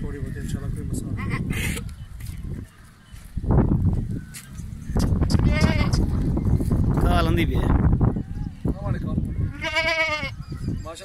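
Goat bleating on a goat farm, several wavering calls near and loud, one around the middle and a clearer pair near the end, mixed in with people talking throughout.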